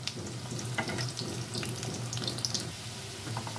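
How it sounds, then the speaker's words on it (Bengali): Slices of kakrol (spiny gourd) frying in oil in a pan, a continuous crackling sizzle with sharp spattering pops and occasional light clinks from turning, with no speech. "বাদামি কালার করে ভেজে নেব।"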